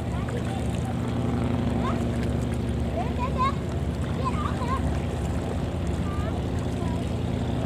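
Festival boats gather on the river at the Nghinh Ông celebration in Sông Đốc, Cà Mau, with a steady low engine drone and water wash running throughout, scattered birdlike chirps and faint voices mixed in.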